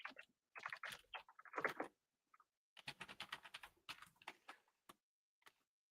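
Bursts of fast clicking on a computer keyboard, close and quiet, come in two flurries split by a short pause, then taper off into a few isolated taps.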